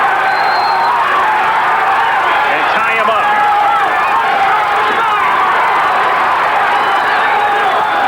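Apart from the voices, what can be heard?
boxing crowd chanting Holyfield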